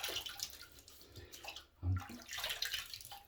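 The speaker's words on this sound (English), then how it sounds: "I'm rinsing from the sink instead of from the washcloth." Tap water runs into a bathroom sink during a face rinse, a soft steady wash with splashy bursts as water is scooped and splashed, one louder low splash near the middle, no talking.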